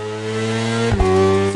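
A motorcycle engine revs with a steady high-pitched drone, briefly dips, then climbs back to a loud sustained tone, close by.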